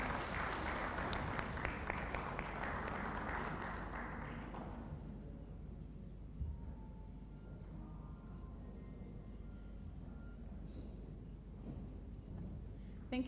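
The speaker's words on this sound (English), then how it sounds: "We can have a hand of applause." An audience applauds at a youth symposium on politics and leadership, broad clapping that fills the first few seconds and then fades into quieter room noise with scattered taps.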